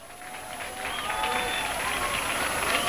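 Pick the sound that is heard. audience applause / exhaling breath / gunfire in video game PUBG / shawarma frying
audience applause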